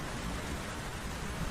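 Heavy rain pours down in a Hindi animated cartoon, a dense, even hiss with no pauses throughout.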